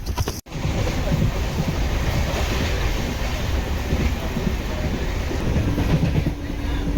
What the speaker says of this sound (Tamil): Train number 66034 Tiruvannamalai to Tambaram MEMU.